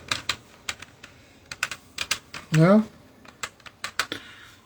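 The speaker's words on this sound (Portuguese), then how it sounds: "Digitando aqui a senha." Someone taps out a password on a computer keyboard, irregular close key clicks in short bursts, while someone speaks briefly in between.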